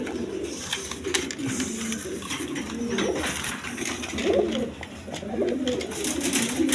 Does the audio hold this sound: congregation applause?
no